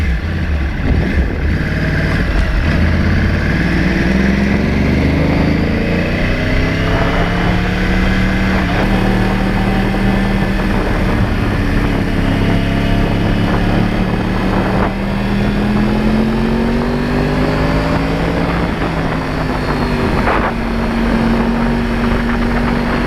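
A Crossplane Yamaha R1 sport motorcycle with no traction control rides on a scenic fall road, its engine droning loud and steady throughout, with pitch rising and falling through gear changes and throttle shifts.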